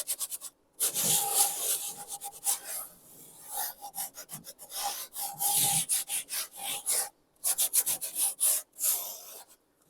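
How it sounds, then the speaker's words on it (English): Sandpaper rasping back and forth across wooden furniture, close and steady, in rhythmic strokes broken by brief pauses. "Then we're coming back with our sandpaper again"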